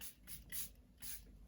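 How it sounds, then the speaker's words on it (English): Charlotte Tilbury setting spray misted onto a makeup brush: several short, soft airy hisses in quick succession, close and fairly quiet, with no talking. "I'm just going to spray some of my Charlotte Tilbury setting spray on the makeup brush."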